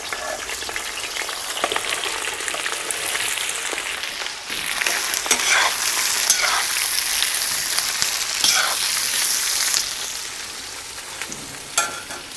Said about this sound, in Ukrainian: Наші ковбаски і копчене м'ясо смажиться